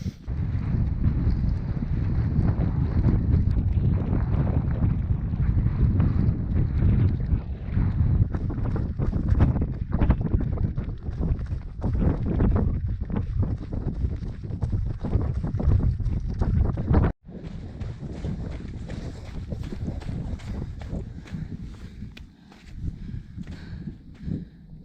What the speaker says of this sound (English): I don't know if you heard any of that, it's really windy.